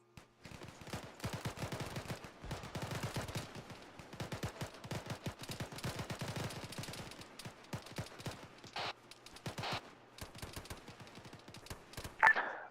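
A sustained volley of rapid gunfire from a military simulation game, with dense, crackling bursts close by, a couple of heavier booms, and a loud crack at the end.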